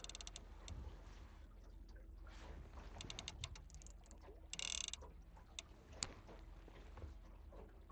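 A fishing reel spools line aboard a boat during walleye and pike fishing on Tiber Reservoir, Montana, giving a steady run of mechanical clicks and whirring over a low rumble of engine and water.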